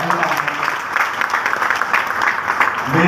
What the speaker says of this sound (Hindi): पूरे हिंदुस्तान में डीएन सर के लिए एक बार जबरदस्त ताली होनी चाहिए।